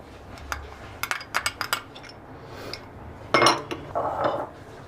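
Spices, lemon juice, raw mango paste and green chili paste are stirred in a bowl, a spoon clinking and scraping against it in irregular bursts, louder toward the end, with no talking.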